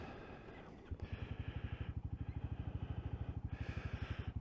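Royal Enfield Classic 350 motorcycle starting up and settling into a deep, even burble, with rapid rhythmic exhaust pulses thumping steadily close by.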